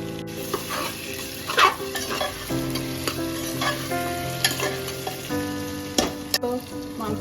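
Onion and chopped tomato frying in a pan for a mutton dak bungalow curry, a steady close sizzle broken by irregular stirring scrapes, with no talk.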